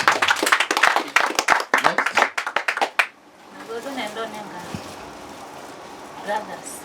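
A room of people claps together at a birthday gathering, a dense burst of hand claps lasting about three seconds that stops abruptly, followed by quieter murmuring voices and background chatter.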